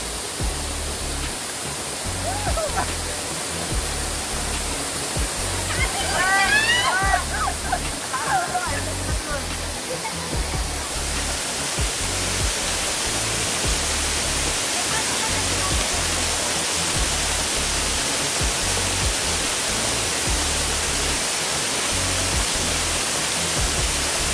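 A monsoon waterfall roars in a broad, constant rush of falling water close by, while voices briefly speak over it partway through.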